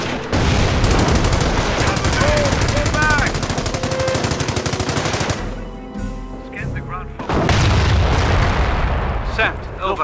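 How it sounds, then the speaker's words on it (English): Bombs and gunfire in the PC strategy game Company of Heroes during a Panzer Elite versus USA skirmish on Langres: loud, dense rattling fire and booming blasts, a short lull, then another heavy barrage, with voices. "Panzer V bombs on their way."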